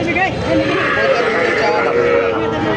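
A young Sahiwal bull calf at the Dhupchanchia cattle market calls with a drawn-out bleating cry, close and loud, with people talking over it.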